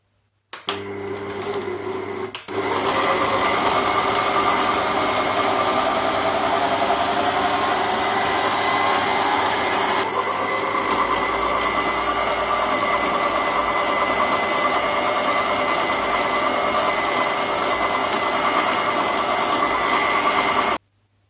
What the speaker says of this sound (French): Et puis je vais mixer.